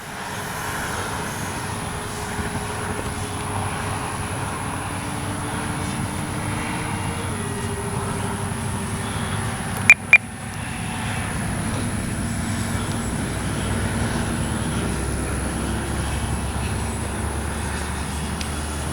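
A radio-controlled B-25J warbird model plane drones past with a steady twin-engine hum whose pitch slides gradually, with a brief pair of clicks midway and no voices.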